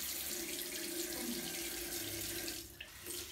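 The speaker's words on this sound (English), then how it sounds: "rinse with cold water." Tap water runs steadily into a sink while a face is rinsed with cold water, a continuous close hiss and splash with slight changes as hands move through the stream, no speech.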